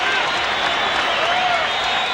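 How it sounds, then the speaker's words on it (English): Crowd at a WBC 122lb title boxing match between Daniel Zaragoza and Paul Banke roars and applauds in a dense, steady ovation between rounds, loud and continuous throughout. "Oh, what an ovation."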